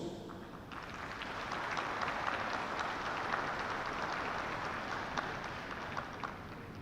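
Audience at a congress panel applauds, soft, fairly distant clapping that starts under a second in and continues evenly for several seconds at low level.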